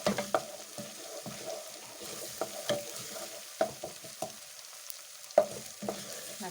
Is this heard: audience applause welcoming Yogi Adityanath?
no